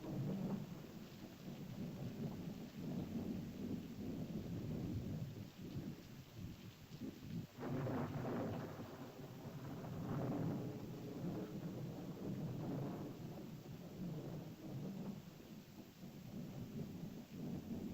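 A heavy thunderstorm with steady rain pours throughout, broad rumbling thunder swelling in long rolls around the middle and again later, continuous and fairly close with no voices.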